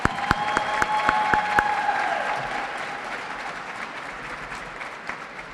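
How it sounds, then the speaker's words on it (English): A large crowd at an advocacy rally day applauds in a steady wash of clapping, with a few sharp individual claps standing out near the start, gradually thinning and fading over several seconds, with no talking. "Give yourself a hand for showing up today."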